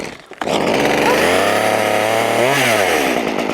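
A chainsaw is pull-started and roars into a loud, steady idle close by, the engine note dipping and rising once as it runs, with no talk over it.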